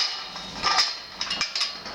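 A newly welded clamp tapped with a tool to test its tightness, giving a few light metallic knocks close by over a quiet background.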